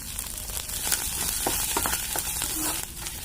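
Bitter gourd paste fries with spices in a pan for a stuffed bitter gourd dish, giving a steady close sizzle with occasional faint stirring scrapes and no talk.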